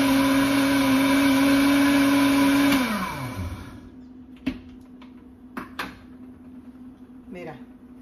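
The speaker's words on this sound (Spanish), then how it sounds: "vamos a moler un poquito más." A kitchen blender grinds a smoothie with a loud steady whine, then spins down and stops around the three-second mark, followed by a few sharp clunks and knocks as the jar is handled.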